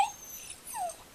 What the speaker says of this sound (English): that was my dog, so I apologize. She just yawned.